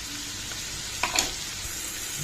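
Capsicum and carrot curry frying in a pan, a soft continuous sizzle with a couple of brief stirring clinks near the middle.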